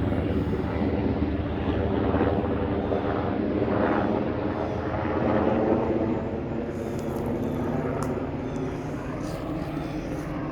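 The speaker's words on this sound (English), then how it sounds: "Black Hawk helicopter." A Black Hawk helicopter drones steadily overhead, a loud continuous rotor and engine roar that swells slightly and then eases.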